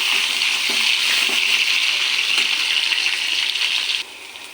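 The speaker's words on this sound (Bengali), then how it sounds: "পটলটা ভেজে নিই তারপরে আলুটা ভাজবো" Pointed gourd (potol) frying in oil in a pan: a loud, steady, hissing sizzle with faint crackles, which drops suddenly in level near the end.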